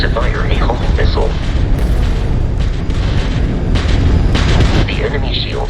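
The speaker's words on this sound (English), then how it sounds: "we can lock in to fire a homing missile" A homing missile launched at an enemy ship in the space game Starfield, heavy booming blasts and rumbling explosions rolling continuously over a loud game soundtrack, with a voice talking throughout.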